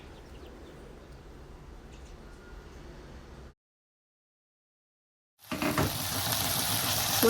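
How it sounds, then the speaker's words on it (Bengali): Onion and bay leaf frying in oil with ginger, garlic, cumin paste and red chili powder, a steady close sizzle with stirring that cuts out into silence, then returns louder and brighter. "তেলের ভিতর তেজপাতা পেঁয়াজ দিয়ে ভালো করে ভেজে আদা বাটা, রসুন বাটা, জিরে বাটা আর শুকনো মরিচের গুঁড়ো দিয়ে আমি ভালো করে কষিয়ে নিচ্ছি"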